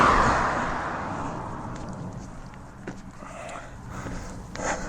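A single car passes on a road outdoors, its broad rushing swell loudest at the start and fading gradually as it moves away, leaving faint background noise and a few light knocks.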